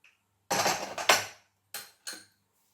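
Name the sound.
pressure cooker being opened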